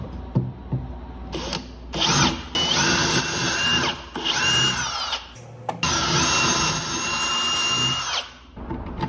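A power drill bores handle holes into a wooden dresser in repeated loud, whining bursts, with short pauses and clicks between passes.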